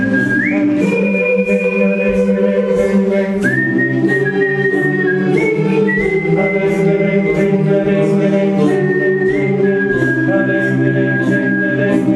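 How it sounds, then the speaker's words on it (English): A group of singers at choir rehearsal whistles a melody together, sustained pitched lines gliding between notes over a steady accompaniment, loud and continuous throughout with no speech. "it's just the whistling"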